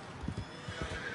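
A wild horse in Red Dead Redemption 2 gives a short, low neigh amid soft hoof thuds, faint and brief against a steady game ambience.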